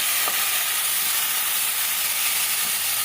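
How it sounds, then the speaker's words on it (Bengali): Spice masala sautéing for a Tangra fish curry gives a steady, loud frying sizzle with a hissing wash, no voices over it, and a few faint clicks from stirring. "আর একটু কষিয়ে নেব তারপর জল ঢেলে দেব"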